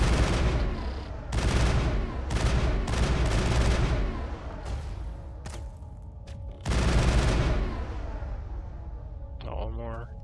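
Gunfire in the Mass Effect video game comes in loud, rapid bursts broken by short pauses, with talk mixed in and a brief whining electronic tone near the end.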